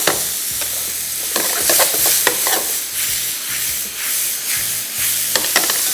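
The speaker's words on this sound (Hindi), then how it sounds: "अभी करते जाएंगे थोड़ा सा फ्राई इसको" Chicken pieces frying for bourbon and fire cracker chicken, a bright steady sizzle in a pan with a spoon scraping and stirring in a loose repeated rhythm, close and loud.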